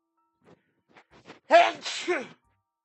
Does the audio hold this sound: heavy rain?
no